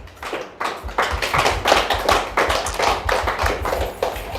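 A standing church congregation claps hands together in a steady rhythmic beat, loud and sustained for several seconds with no talking.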